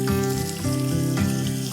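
Onions fry in a pan, a steady bright sizzle that stays loud and close throughout with no voices.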